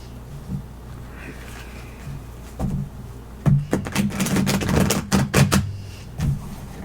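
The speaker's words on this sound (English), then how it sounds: "All right, one more shuffle from me." Tarot cards being shuffled by hand: several quick riffling bursts and taps in close succession, near and fairly crisp, with a quiet room hum underneath and no talking.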